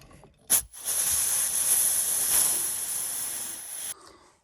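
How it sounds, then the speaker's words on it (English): An air compressor pushes air through a fuel feed line into a pail, making a sharp pop followed by a loud, even rushing hiss that lasts about three seconds and then cuts off abruptly. "Just putting the air compressor in, and I got a pail on the other side with a hose running to it"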